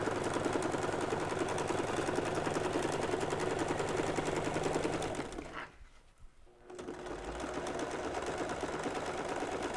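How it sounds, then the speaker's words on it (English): A sewing machine runs steadily as it stitches a ribbon in a straight line from one end to the other, its dense, even whirring continuous and loud, briefly stopping for about a second midway before starting again. "we're just gonna go in a straight line and stitch from one end to the other"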